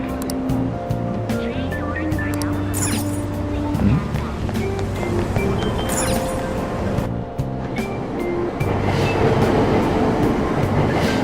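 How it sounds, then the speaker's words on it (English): A subway train pulls away from a station in Persona 5 Royal, with a loud rolling rumble, rising tonal motor whines and clatter that build into a continuous roar as it departs. "Train doors are now closing."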